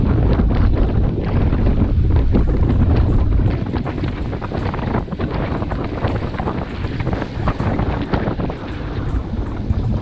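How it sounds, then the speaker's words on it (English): Strong wind buffets the microphone during a group bike ride into a cross headwind, a loud steady roar with gusty low rumble throughout, easing slightly after the first few seconds. "The wind's coming from the right and in our face"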